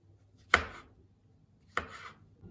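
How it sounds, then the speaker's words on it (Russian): A kitchen knife slices through fresh mushrooms, stems included, on a cutting board: two crisp, separate chops about a second apart, close and distinct against near silence. "Грибочки нарезаем слайсами вместе с ножкой"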